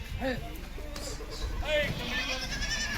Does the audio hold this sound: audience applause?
no